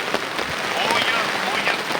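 Heavy rain pours down steadily in the Kandhar area of Nanded district, a dense continuous hiss of drops striking surfaces at close range, with faint voices mixed into the wash.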